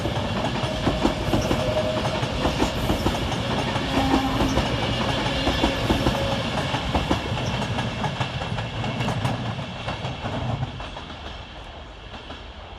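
An Avanti West Coast Class 390 Pendolino pulls out of Preston station, a loud, steady rumble with rail clatter and a faint whine that eases slightly near the end, with no voices.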